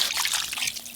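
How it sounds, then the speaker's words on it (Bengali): Water pours into a pan of home-cooked country-rooster chicken curry with potatoes, a steady close trickle and splash lasting about a second with no talking. "এবার জল দিয়ে দেবো"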